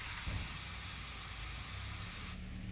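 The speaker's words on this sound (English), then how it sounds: "I'm gonna use quick start, right? Quick start, and you spray it" Quick Start carb cleaner sprays into the engine of a BMW E34 530i with a rough idle, a loud continuous aerosol hiss that stops abruptly near the end.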